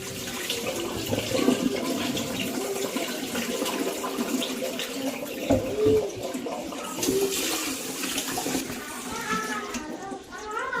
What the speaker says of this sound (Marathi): बघा मी 4-5 पाण्याने धुतले।